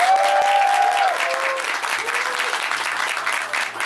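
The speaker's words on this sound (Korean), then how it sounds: "오늘 공연에 함께 해주신 이재님에게 다시 한번 큰 박수 부탁드리겠습니다" A crowd applauds at a live club concert, with dense, loud clapping throughout, while a voice and a brief sustained tone sound over the start.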